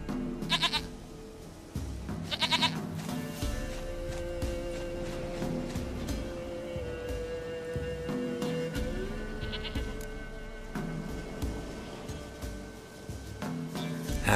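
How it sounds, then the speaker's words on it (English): Goats bleat repeatedly in the video game The Witcher 3: Wild Hunt, sharp wavering cries at the start and then a few more scattered through the clip over a steady ambient game background with no talking. "Goat of mine, dearest, sweetest goat."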